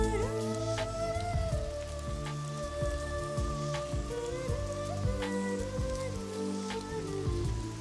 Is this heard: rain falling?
yes